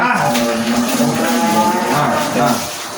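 A sacrificial cow with side teeth lets out a long, loud, close moo at a crowded cattle market, fading at the end, with faint background voices.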